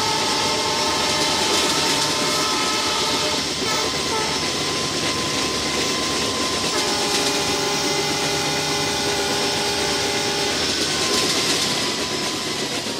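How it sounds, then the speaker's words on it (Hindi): Aboard an Indian express passenger train, an EMD locomotive hums and a generator drones under continuous track rumble and clatter, all loud and steady throughout, with faint talk mixed in. "एक तो ये ट्रैक साउंड प्लस ऊपर से EMD का जो है हमिंग साउंड आ रहा है और प्लस जनरेटर डर का साउंड"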